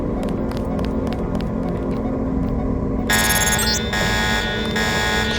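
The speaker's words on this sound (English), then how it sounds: "The alarm has closed the north door." Loud, harsh electronic alarm buzzer from a training level in the video game Deus Ex blares continuously for the last couple of seconds, over steady mechanical rumble and a sequence of short beeps before it.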